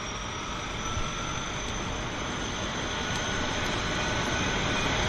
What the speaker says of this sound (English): I'm sure this aircraft is heading out to Victoria.